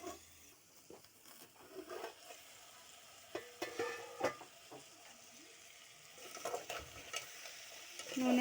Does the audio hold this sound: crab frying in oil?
yes